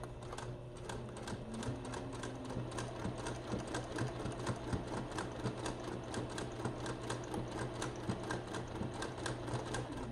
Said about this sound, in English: Again, we're gonna use a 1/4 inch seam. Just stitch all the way down.